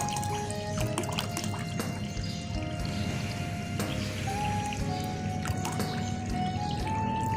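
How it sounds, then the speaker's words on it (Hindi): Water is poured into a cleaned bird water bowl set out on a rooftop in hot summer, a steady close trickle and splash running throughout with no voices. "अब हम इसमें पानी डालेंगे।"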